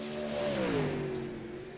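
Dirt late model race car heading onto the track at night, a loud close engine drone rising and then falling in pitch as the car accelerates past, no talk.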